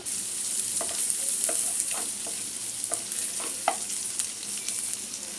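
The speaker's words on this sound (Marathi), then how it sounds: "आता मी यात 2 मोठे चमचे तेल सोडते, लसूण, अद्रक, आता याला आपण सॉटे करून घेऊया।" Garlic and ginger sautéing in two large spoons of hot oil for egg Hakka noodles, a loud continuous sizzle broken by repeated spatula stirs and scrapes, with no one talking.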